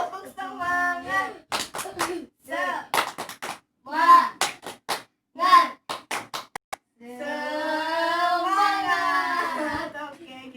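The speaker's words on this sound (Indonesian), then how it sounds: "Tepuk semangat lagi. Tepuk semangat." Children perform a rhythmic classroom clapping chant in Indonesian, sharp bursts of hand claps alternating with sung and spoken voices in a patterned call, ending with a sustained group chant.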